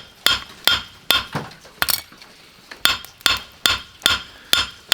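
A hot knife blade being planished with a hammer on an anvil during hand-tool knife making, giving about a dozen loud, ringing metallic strikes in an uneven rhythm, some in quick pairs, close and clear.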